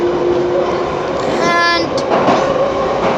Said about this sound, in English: So the Piccadilly line train is now making a kind of weird noise.